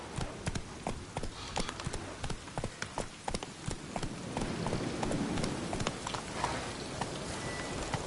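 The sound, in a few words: horse galloping in the video game The Witcher 3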